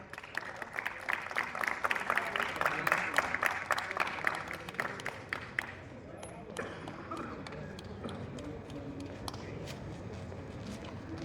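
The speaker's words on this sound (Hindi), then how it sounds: "जोरदार तालियों से स्वागत कीजिए" An audience at a poetry evening, a foundation day event at NIT Rourkela, breaks into loud applause that fades after several seconds into scattered claps and crowd rustle.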